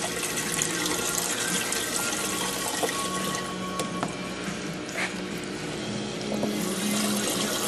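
Water gushes from a fully open valve, a steady half-inch stream splashing and rushing close by with a continuous bright hiss and small gurgling shifts, no voices over it.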